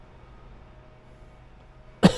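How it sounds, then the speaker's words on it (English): A single close, sharp cough near the end, breaking an otherwise quiet stretch beside a cheese smoker. "sorry for coughing"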